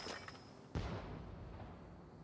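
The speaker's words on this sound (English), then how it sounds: "Here's the fireworks." Fireworks in the video game Rise of the Ronin, a single sharp burst followed by a rumbling crackle that fades out, faint and distant against a quiet game background.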